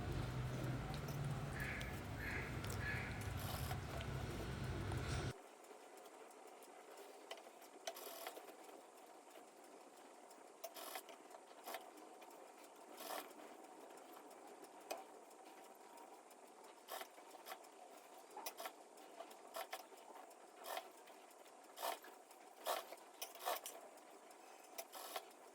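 A sewing machine stitches the pleats of a girl's lehenga with a loud, steady whir for about five seconds. Then it goes quiet except for scattered faint clicks and taps, with someone talking softly over the handling.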